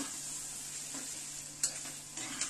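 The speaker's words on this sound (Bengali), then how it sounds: "পুঁই শাকটা ভালো করে তেলের মধ্যে বেশ কিছুক্ষণ ভাজবো" Malabar spinach (pui shak) fries in oil in a pan as a soft, quiet sizzle, with a couple of light clinks and scrapes from stirring near the end and no voices.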